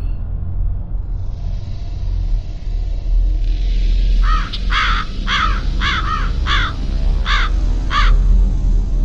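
Several crows caw in a steady series of harsh calls at moderate distance over a constant low rumble of city traffic.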